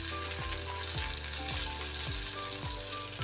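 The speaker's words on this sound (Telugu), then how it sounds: "ఈ విధంగా తిప్పుకుంటూ తొందరగా ఆనియన్స్ ఫ్రై అవ్వడానికి" Sliced onions sizzle and fry steadily in a pan for a chicken curry, with a regular scraping stir about every half second, loud and close with no voices.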